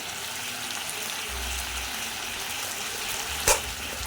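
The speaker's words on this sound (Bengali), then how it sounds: "ব্যাস, দিয়ে আমি একটু নাড়াচাড়া করবো।" Vegetable stalks, potato and tomato with ginger-cumin paste, salt and turmeric stirred in a hot pan, producing a constant close sizzle and frying hiss with one sharp clack of the utensil near the end.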